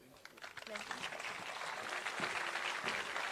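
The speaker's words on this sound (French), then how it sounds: "On peut l'applaudir bien fort." Crowd applause at a Springboks welcome ceremony, a dense broadband patter swelling and holding steady for a few seconds, with voices mixed in.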